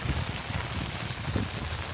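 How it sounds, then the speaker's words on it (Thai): Rain falls steadily close by in rural Thailand. The hiss is even and continuous, with no talk over it. "ขนาดฝนตกได้เนี่ยครับ"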